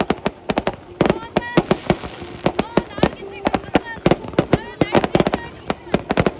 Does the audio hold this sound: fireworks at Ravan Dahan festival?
yes